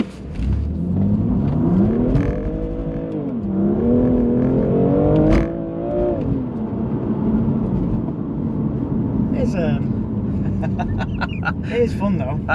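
A BMW M2 Competition in Sport Plus mode accelerates hard, its engine note rising and falling through gear changes at close range, with people talking over it inside the car.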